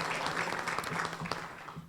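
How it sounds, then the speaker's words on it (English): Brief, fairly soft applause from a public forum audience welcoming a county commissioner and other officials, scattered clapping over low background hum. "Please give them a round of applause."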